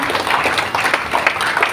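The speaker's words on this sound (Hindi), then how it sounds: "डॉक्टर लीम सर के लिए जोरदार ताली होनी चाहिए" An audience claps loudly for a speaker at a Women's Day gathering, a dense, sustained burst of many hands applauding together with no speech over it.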